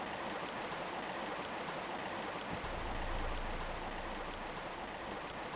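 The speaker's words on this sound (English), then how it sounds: "that incredibly short loop of running water is really, really naff and really annoying." Short looped running water from the Tomb Raider 1 Remastered video game, a steady broadband rushing stream that keeps flowing evenly throughout, with a faint low rumble partway through and no talking.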